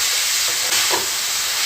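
Fenugreek leaves hit a hot cumin-oil tempering with a loud, continuous steamy sizzle, close by and uninterrupted, with a few faint pops midway.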